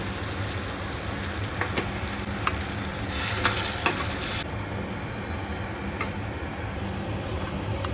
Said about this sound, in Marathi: टोमॅटो आपला इथे मस्त फ्राय झाला आहे